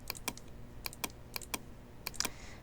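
Quiet, close computer keyboard typing as text is entered in Photoshop, about a dozen crisp separate key clicks at an irregular pace in an otherwise still room.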